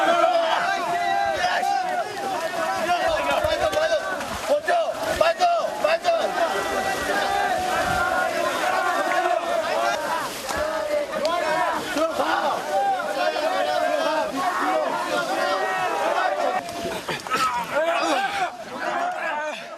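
Soldiers at a military fighting match let out roaring shouts and cheers as a dense, continuous crowd din that stays loud throughout, with voices chattering within it.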